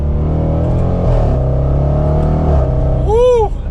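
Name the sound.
SUV sport exhaust accelerating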